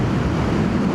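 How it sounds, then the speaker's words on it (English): Loud, steady wind roars and buffets the microphone while riding a BMW R12 motorcycle through countryside, a dense continuous rumble with no pauses. "Boy, it's windy, oh my god."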